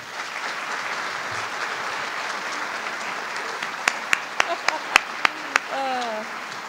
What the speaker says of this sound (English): Can we give them one more cheer?